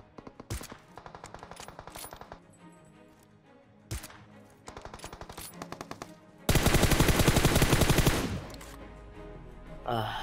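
Automatic and single-shot gunfire from a PUBG Mobile match, loud bursts and rapid volleys with short pauses, then a dense sustained stretch of firing near the end.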